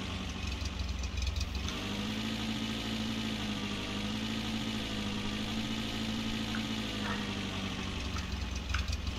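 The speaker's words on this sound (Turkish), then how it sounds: "Otobüs motorum da ona dahil." A bus engine idles in The Long Drive, alongside a Renault diesel: a steady low rumble with a constant hum that holds at an even level throughout, no voices present.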